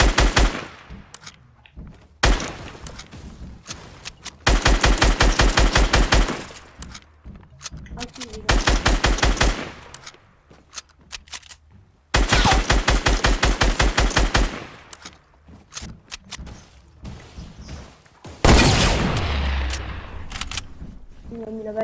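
Gunfire in the video game Fortnite, several long bursts of rapid automatic shots separated by pauses, loud and close, with players talking between and over the volleys.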